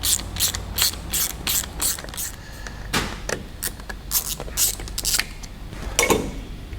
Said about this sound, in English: So I'm just going to get the bulk of these screws out